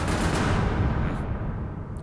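Gunfire in a drama film, a dense loud burst of rapid shots blending into a continuous roar with no talk over it.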